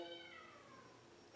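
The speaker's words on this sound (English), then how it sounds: "You might hear my kitten in the background." A kitten gives a single drawn-out, falling meow in the background, faint and distant, with the sound cut off abruptly at the end.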